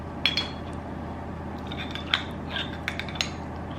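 A tablespoon scoops cranberry sauce from its container, making a few close, crisp clinks and soft wet scrapes spread across a few seconds, with no one talking.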